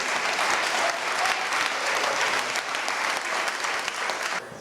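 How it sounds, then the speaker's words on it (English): Sustained audience applause at a graduation-rates event for boys of color, loud and dense throughout, easing slightly at the end with no speech over it. "let's give it one more round of applause for Brother Daniel and all the young brother"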